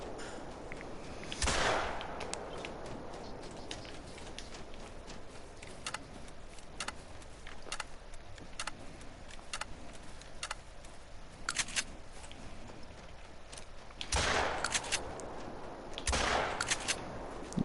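Hunting rifle shots in theHunter: Call of the Wild while hunting pheasants and rabbits in the Hirschfelden reserve: three sharp, loud gunshots spaced far apart, with faint clicks and quiet outdoor ambience between them.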